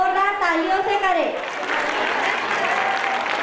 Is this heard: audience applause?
yes